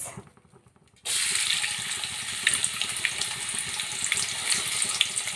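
Onions dropped into hot oil in a cooking pot set off a sudden, steady sizzle after a second of near silence, crackling and hissing without pause at close range.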